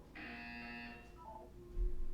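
An electronic buzzer in the Portal 2 video game sounds as a steady tonal drone for about a second, followed by a lower, shorter tone and a dull thump, all fairly faint.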